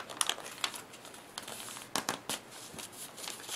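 Origami paper being folded and creased by hand makes soft, close crinkling and rustling with a few sharper crackles in quiet surroundings.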